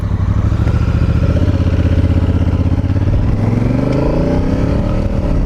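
A 2018 Honda Africa Twin with the DCT automatic gearbox, ridden in sport mode, gives a loud, close, throbbing engine note that holds steady and then climbs as it revs harder, with no talking.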